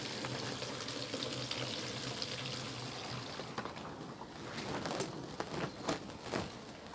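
A litre of raw milk pours into water, a soft, steady splashing stream that thins into a few trickles and drips at the end.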